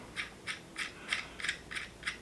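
Thread protector screwed onto the threaded barrel of a Polymer 80 Glock 19, seven evenly spaced short scraping clicks from metal threads turning, close and fairly quiet.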